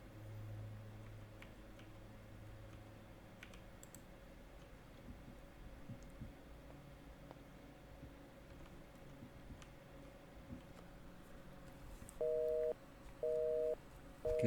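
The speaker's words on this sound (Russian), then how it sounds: "Телефон занят. Или недоступен." Phone busy signal in the video game The Signifier: three short, evenly spaced electronic beeps near the end, following a long stretch of faint low hum and quiet ambient noise.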